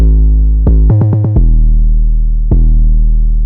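An 808 bass pattern in a synth beat plays deep sustained booming notes with four quick higher notes an octave up in a rapid run, then another long low hit; no voices.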